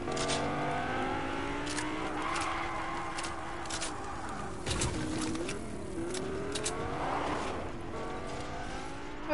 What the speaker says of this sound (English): Oh, car.